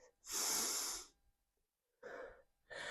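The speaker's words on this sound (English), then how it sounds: "Take a breath." Breathing during a hip-opening yoga flow: a strong, close airy breath, then a silent pause, followed by two shorter audible breaths, each sharp and breathy with no speech.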